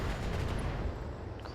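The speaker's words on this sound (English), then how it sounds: "Let's try and do a precision strike on their turret." Precision strike firing on an enemy turret in a video game: a short, heavy burst of rumbling artillery-like blasts that fades slightly over a second and a half, with no voices.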